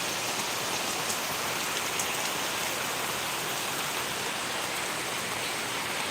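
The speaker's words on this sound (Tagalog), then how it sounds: "Maulan." Steady rain pouring down on a cold, wet day in Bicol, a dense continuous hiss of drops on surfaces with no pauses, fairly loud and even throughout.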